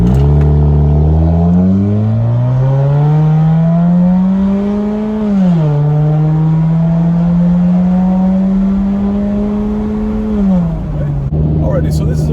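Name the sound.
car accelerating 0 to 60 with muffler and resonator deleted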